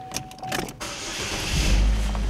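A Chevrolet Equinox engine starts, with a brief whirring and clicking from the starter followed by the engine catching into a loud, steady low idle rumble, close up and with no talking.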